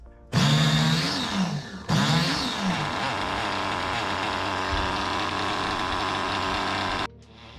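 Small nitro engine running during break-in with the glow plug fitted and the carb slightly open, a loud, buzzing high-revving whine that rises in two quick throttle blips, then holds a steady rough drone before cutting off abruptly.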